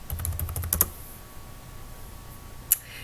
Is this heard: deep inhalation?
no